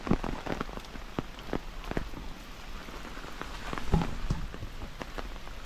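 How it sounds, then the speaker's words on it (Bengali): Heavy rain falls near waterfalls, a dense steady patter with sharp drops striking close surfaces, no voices. "ভালো বৃষ্টি পড়ছে দেখুন"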